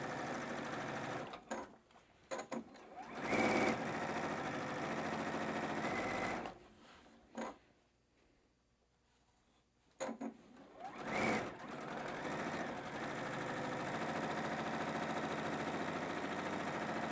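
A sewing machine stitches seams in batik fabric, running in a steady close mechanical hum that starts, stops for a few seconds of near quiet, then resumes, with a few sharper clunks along the way.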